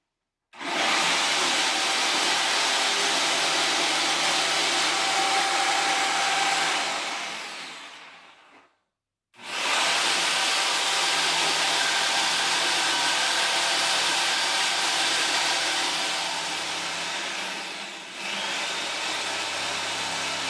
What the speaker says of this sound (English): using a jigsaw.